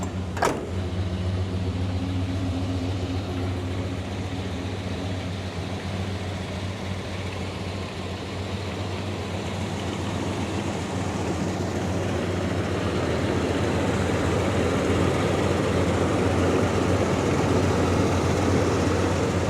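A 1987 Chevrolet Monte Carlo SS with a 305 cubic inch 5-liter V8 and 4-speed automatic cranks and fires near the start, then runs at a steady, loud idle with a low rumble that grows slightly fuller later on.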